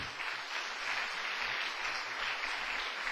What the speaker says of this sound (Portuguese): Então pode dar uma salva de palmas para ele